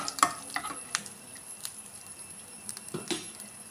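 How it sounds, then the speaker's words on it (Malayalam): Cashew nuts frying in oil in a pan, a faint sizzle punctuated by several sharp scraping and clinking stirs of a spoon against the pan, quiet and close. "അണ്ടിപ്പരിപ്പിനെ നമുക്ക് വറുത്ത് കോരിയെടുക്കാം ഒരു ബ്രൗൺ കളറാവണ വരെ"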